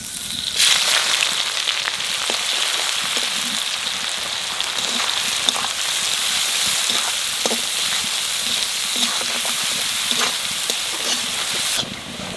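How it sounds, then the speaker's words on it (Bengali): Onions frying in hot oil with cumin, bay leaf and dried chilli, a dense crackling sizzle that runs steadily close by before cutting off near the end. "পেঁয়াজটা একটু লাল লাল করে বাজিয়ে নিছি"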